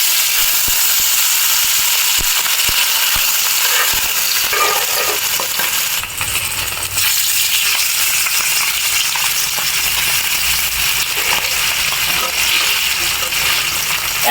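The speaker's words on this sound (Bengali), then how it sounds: "এখন আগে থেকে ম্যারিনেট করে রাখা মাছগুলো তেলের ভিতর দিয়ে দিব।" Marinated foli fish sizzle loudly and steadily in hot oil, a dense continuous crackle with a brief clatter around the middle.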